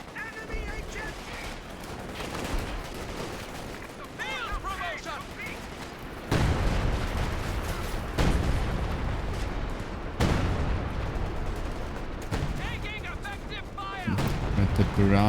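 An artillery barrage in a strategy video game during a Summer Cup quarterfinal match, with repeated heavy booms and rumbling blasts layered under lively commentators talking throughout.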